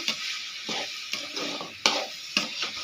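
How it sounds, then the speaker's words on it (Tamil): Bitter gourd is sautéed in a pan, its steady soft sizzle broken by several sharp spatula scrapes and stirring strokes at uneven intervals, close and moderately quiet, with no speech. "பாவக்காய் போட்டு நல்லா வதக்கணும் ஃப்ரெண்ட்ஸ்"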